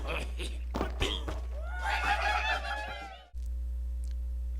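Cartoonish bird squawks and chattering calls from the Angry Birds video game, a busy burst of chirps and cries that cuts off abruptly and leaves a steady hum.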